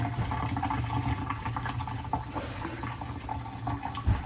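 Hot water is poured a little at a time into a dental stone mix for a denture impression, giving a steady, close trickling and splashing with no voices.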